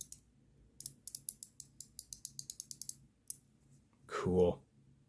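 Ratchet fidget toy clicking in a quick, crisp run of a dozen or so sharp clicks, then a lone click, close and clear, followed by a brief burst of speech.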